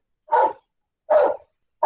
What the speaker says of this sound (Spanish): Hay un perro que está ladrando acá muy fuerte.